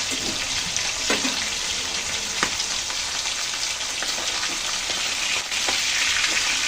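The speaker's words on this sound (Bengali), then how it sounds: "হালকা করে ভেজে নেওয়া হবে, এখন তুলে নিচ্ছি।" Pieces of hilsa fish fry in hot oil with a loud, steady sizzle and crackle, punctuated by occasional clinks and stirring noises close by.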